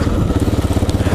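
A Honda Dominator motorcycle engine pulls while being ridden on mountain trails near Málaga, giving a loud, close, steady stream of rapid rhythmic thumping pulses with no speech.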